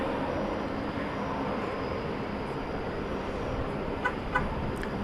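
A Volaris Airbus A321neo airliner moves at night at DFW Airport, a steady broadband engine roar heard from a distance, with a couple of faint clicks late on.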